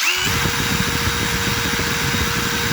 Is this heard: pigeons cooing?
no